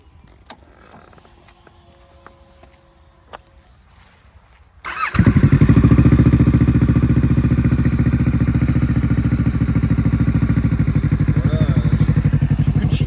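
A Kawasaki Ninja 650 motorcycle, 40th Anniversary Edition, starts after quiet clicks and handling noises, then settles into a loud, steady idle that runs close by to the end.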